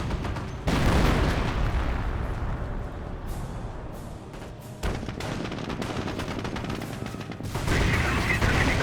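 Sustained gunfire and machine-gun bursts from a Company of Heroes 1 battle between Wehrmacht and British forces, dense and continuous with booming impacts, a brief lull near the middle and then renewed heavy firing.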